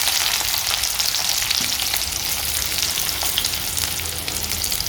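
Small onions go into hot oil with fenugreek seeds for a fish curry and fry with a dense, constant sizzle and crackle, close and loud throughout.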